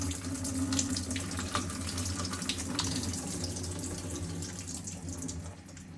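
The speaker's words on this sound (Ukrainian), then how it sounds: "Зливаємо з нього воду." Water pours steadily in a continuous splashing rush, close by, as it drains from an opened can of peas, like liquid draining into a sink, fading slightly at the end.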